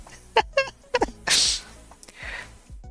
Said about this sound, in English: I kind of lost my place when I sneezed